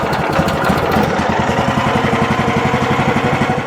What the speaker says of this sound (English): This Kohler Command Pro 14-horse engine is just fantastic.